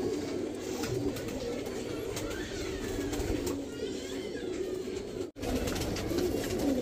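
Golden pigeons coo softly and repeatedly nearby, their low rolling calls layered over a steady background hum.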